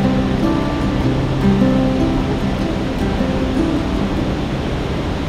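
Strong river current rushing through a cold, remote village river, a steady loud broadband roar of moving water close by, continuous throughout with no talk.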